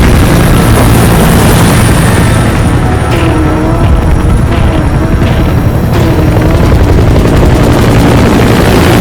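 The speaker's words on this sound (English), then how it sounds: "Support helicopter." Loud, close support helicopter rotor noise in the video game Metal Gear Solid V roars continuously, with a few dull booms and bursts layered over the constant thrum.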